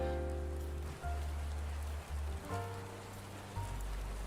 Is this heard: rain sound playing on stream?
yes